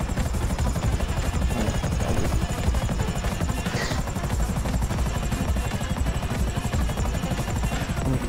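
Steady, loud thudding rotor blades of a helicopter in Grand Theft Auto V chop continuously throughout, with a high whine above them.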